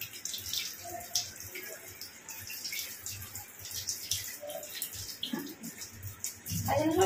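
Tap water runs and splashes steadily in a kitchen sink while raw chicken is rinsed for chilli chicken and kosha, with faint clatter and a louder burst of running water near the end.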